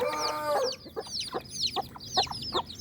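A hen clucks among her week-old chicks on a country rooster farm, a close series of short rhythmic clucks repeating steadily with no voices.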